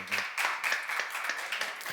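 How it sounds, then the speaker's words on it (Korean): A church congregation at a seminar claps together in a quick, fairly regular run of sharp hand claps, moderately loud and close, without talk. "박수로 하나 드리세요."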